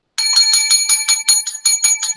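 A handheld bell, rung on a Massachusetts beer-review show, gives about eight quick, bright dings in a steady rhythm. It sounds close and loud, with no talk.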